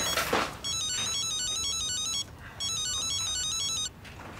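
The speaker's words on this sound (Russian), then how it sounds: "Телефон." A telephone rings indoors with an electronic trilling ringtone, two long bursts separated by a short pause, clear and fairly close, after a brief rustle.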